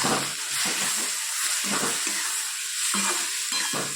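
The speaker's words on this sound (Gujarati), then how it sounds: "આ બધી વસ્તુ મેં 5 ગેસ ઉપર જ કરી છે તો ફટાફટ આપણી ડુંગળી સોફ્ટ થઈ જાય" Onions with asafoetida, coriander-cumin powder, turmeric and salt sizzle in a pan on a gas stove, a constant hiss of frying broken by repeated scraping strokes of a spoon stirring nearby.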